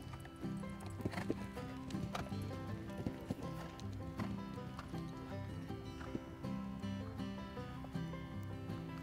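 Horse hooves clip-clopping in a steady canter rhythm across a jumper schooling course, with occasional snorts or whinnies, heard over constant background music.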